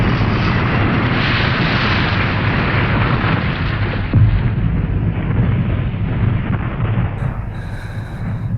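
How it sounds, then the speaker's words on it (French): Dramatic sound effect of an airplane slamming into a tower and exploding, a loud, dense roaring rumble that holds steady, swells with a deep boom midway, then slowly thins out. "L'avion venait de s'écraser sur la tour,"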